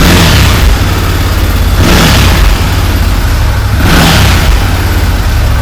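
Massimo Militia 1000 UTV engine, which will not spark and is running smoky, revs loudly three times in steady surges, each blip rising and falling over a continuous close rumble, with no talking.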